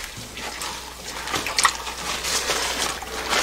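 Water splashes and trickles over a large cloth stock pouch packed with lumpy malt powder for sikhye, with irregular wet drips and sloshes close by and no talking.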